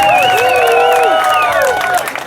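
An audience at a live stunt show cheers and applauds loudly, with whoops and shouts over clapping that fade toward the end.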